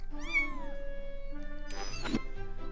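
Cartoonish cat meows in the video game Jazzpunk, two clear drawn-out mewing calls with a gap between them, close and prominent over quiet game background tones.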